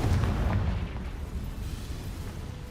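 Confringo blasting spell from the video game Hogwarts Legacy, a deep booming explosion that hits hard at the start and rumbles away into a low fading roar.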